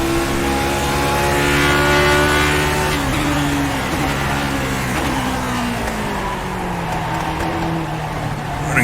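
A Lotus 49 race car in iRacing at Okayama revs hard under acceleration, its loud engine note climbing through the gears with a shift around three seconds in, then pulling steadily on.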